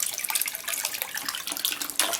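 Water pouring and splashing steadily from the outlet of a Newa Micro-Jet MC450 oxy pump running with reduced aeration, a close, continuous hissing gush with no talking.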